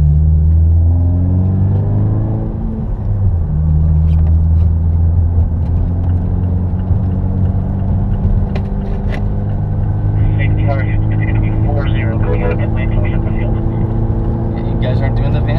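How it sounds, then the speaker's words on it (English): An in-car view of a parade lap at the Road Atlanta race circuit: a deep, steady engine rumble with shifting tones as the car rolls along, loud and close, while people talk over it. "Parade car rolling."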